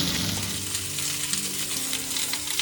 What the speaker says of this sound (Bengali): মাশরুমগুলো একটু নুন গোলমরিচ দিয়ে আর কর্নফ্লাওয়ার মাখিয়ে ভেজে নিতে হবে